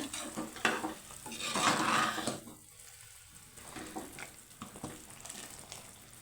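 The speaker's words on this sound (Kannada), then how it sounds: "ಈಗ ನೋಡ್ತಾ ಇರ್ಬೋದು ಚೆನ್ನಾಗಿ ಕುದೀತಾ ಇದೆ" Water for vangibath rice boils in a pot on the stove, a close bubbling hiss that swells loudly for a couple of seconds, then settles into quieter burbling with light clinks of a pan.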